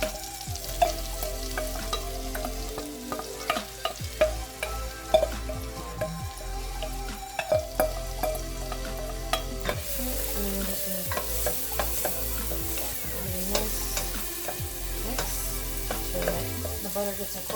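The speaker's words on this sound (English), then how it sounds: "I'm going to start adding our onions and garlic." Onions and garlic sizzling in melted butter while being stirred for baked mac and cheese, a steady close frying hiss broken by repeated spoon clinks and scrapes against the pan.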